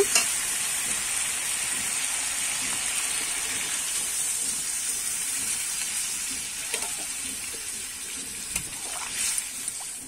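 Water poured into a pan of fried-down masala for a Bengali ridge gourd, potato and prawn curry, giving a continuous hissing sizzle with faint stirring scrapes throughout and no talk.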